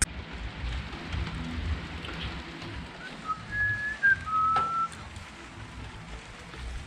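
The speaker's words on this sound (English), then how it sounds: "wait for this rain to go" Rain falling outdoors on a garden with brick steps and a wall being rendered, a faint steady patter throughout with a couple of brief thin whistles.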